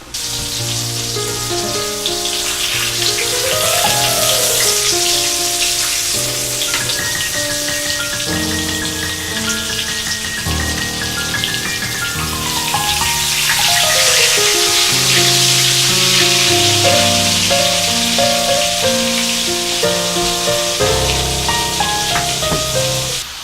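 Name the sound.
schnitzel frying in hot oil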